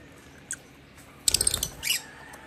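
Faint, scattered bird chirps at a cabin in Iriga City, Camarines Sur, Philippines: a single short call, then a brief burst of several quick tweets and squawks against a quiet background.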